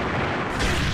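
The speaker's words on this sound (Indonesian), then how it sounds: "Wah, dia mainnya tembak-tembakan ya" Dense, continuous bursts of game gunfire and booming blasts, loud and steady with no pauses, filling the whole short stretch.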